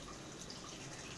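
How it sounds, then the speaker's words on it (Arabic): Filtered water poured onto peeled lemons for pickling: a short, faint watery splash and trickle, alone. "هحط عليه ميه من الفلتر عشان يبقى فيه نسبه ميه عشان الكبه"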